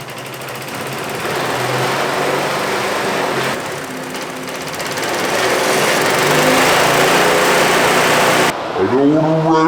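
A blender driven by a lawnmower engine runs loud and steady, its roar swelling at times and ending in a brief shift of pitch.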